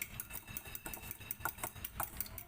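Soft, rapid rhythmic tapping and swishing as a cracked egg is stirred in a separate bowl for a calamari batter, faint and close with quiet kitchen background.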